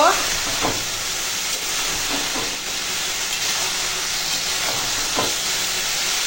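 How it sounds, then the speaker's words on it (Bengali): Prawns sautéing with elephant foot yam stems in a pan, a continuous close hiss and sizzle with a few soft stirring scrapes. "এখন সব ভালো করে কষিয়ে নেব"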